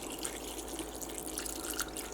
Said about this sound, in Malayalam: പിന്നെ വെള്ളം ഒഴിക്കാം കേട്ടോ.